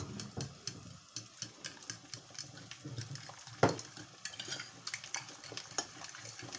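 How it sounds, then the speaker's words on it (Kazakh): A utensil stirs an omelette mixture of beaten eggs and chopped vegetables in a bowl, with quick repeated clinks and scrapes against the sides in a busy, uneven rhythm, close and fairly loud. "Енді бәрін жақсылап араластырамыз."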